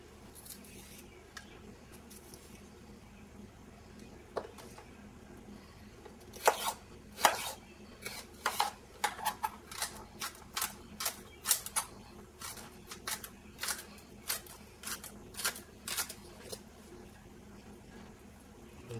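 A knife chops celery into big chunks on a cutting board for salmon patties: sparse taps at first, then a quick irregular run of sharp, close chops.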